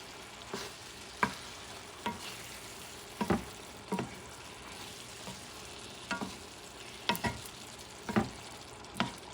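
Ground meat sauce for Puerto Rican spaghetti cooks over medium-low heat in a pan, a low steady sizzle broken by repeated sharp spoon taps and scrapes at irregular intervals, with no voices.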